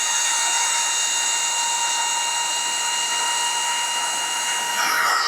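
A cordless DeWALT 20V drill run through a 350W power inverter whines steadily at high pitch for several seconds, a continuous motor tone with faint shifts near the end.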